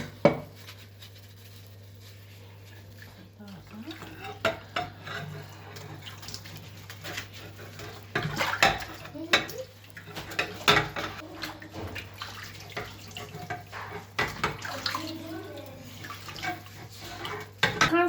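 Dishes and a greasy, dirty cooking pot are washed at a sink. Running water splashes over clinks of plates and cutlery and scrubbing noises, growing busier as the washing goes on, with occasional voices.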